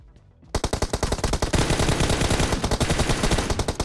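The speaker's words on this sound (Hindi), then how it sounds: "तुम फायर कर रहे हो हम पे" Video game gunfire in Battlegrounds Mobile India: after a brief quiet start, a loud, continuous stream of rapid automatic shots runs unbroken to the end at close range.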